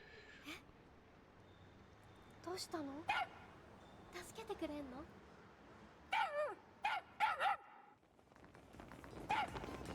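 Small cartoonish dogs bark and yip in short bursts in a Shiba action puzzle video game, several quick clusters of barks over a bed of game music, with someone talking in between.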